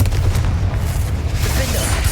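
Confringo fire-blast spell from the video game Hogwarts Legacy, a dense rumbling boom that sustains low and heavy throughout, with no speech heard.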